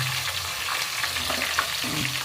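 Onions drop into hot oil in a pan while dal tadka and jeera rice are being cooked at home, producing a steady close sizzle with soft stirring scrapes and no voices.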